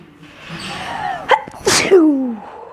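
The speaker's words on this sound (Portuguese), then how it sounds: "esse espirro tão louco" A single loud, sharp sneeze with a wheezy intake beforehand, close up, followed by a trailing whine-like tail.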